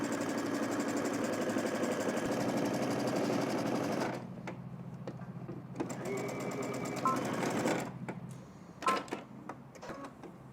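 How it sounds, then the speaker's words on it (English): A sewing machine stitches across the inside seam of a Simplicity S3011 garment at a 5/8-inch seam allowance, whirring steadily for about four seconds, then running in shorter bursts with pauses, clicks and handling noises, and some talk mixed in. "we're going to head to the machine and we're going to stitch all the way across the inside seam"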